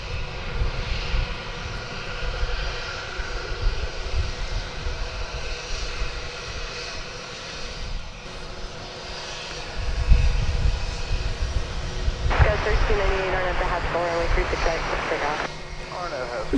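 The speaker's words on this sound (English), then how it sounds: "There's an Airbus A321 snappily making its way to the starting gate." An Airbus A321 taxis to the gate at DFW Airport with a steady, continuous engine roar. A person talks throughout, and a higher warbling sound joins near the end.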